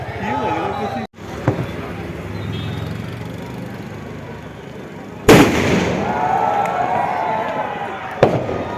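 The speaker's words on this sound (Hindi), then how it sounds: "रावण में बम पटाखे भी डाले हैं, तो विस्फोट कर रहा रावण।" Crackling bursts and sharp bangs of firecrackers packed inside a burning Ravana effigy at a Dussehra celebration in Almora, amid crowd noise and voices, with two loud pops standing out.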